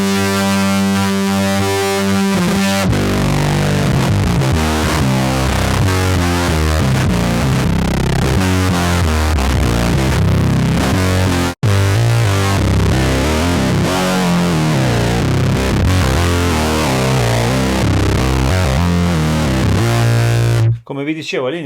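Yamaha Reface CS synthesizer played through its distortion effect, producing a loud, gritty, saturated sustained tone with shifting notes and chords running almost continuously, cutting out briefly near the middle and at the end.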